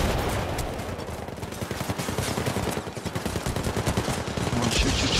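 Rapid, sustained automatic gunfire in the Syndicate video game, loud and dense with fast repeating bursts that swell toward the end.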